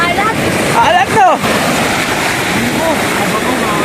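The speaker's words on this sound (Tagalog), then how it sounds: "lakas ng alon" Strong sea waves at a beach in Tangalan, Aklan, roar and wash close by in a steady rush, with a brief surge and gusts of wind buffeting the microphone.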